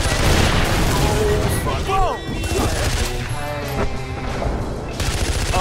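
Rapid gunfire from a weapon fired out of a moving car in Far Cry 4, dense and loud over engine rumble, with excited voices talking over it.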